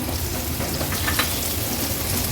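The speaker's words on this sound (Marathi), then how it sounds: "आपण ह्याच्यामध्ये कांदा घालायचा आहे।" Onion is frying in a pan with cashews for a vegetable pulao, producing a close, loud, rain-like hiss and crackle that stays steady throughout.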